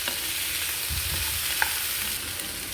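Tomato and onion frying together in a pan for a homemade chicken curry, a steady close sizzle with soft stirring scrapes and a small clink, no voices.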